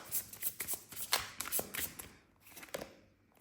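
Tarot cards are shuffled close by in a quick series of crisp riffling bursts, with no talk over them.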